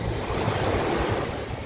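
Sea waves wash onto a Thai shoreline under steady wind, a loud continuous roar of surf with gusty rumble and no voices.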